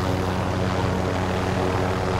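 A helicopter in a video game gives off a loud, continuous rotor and engine drone that stays steady and close, with no voices over it.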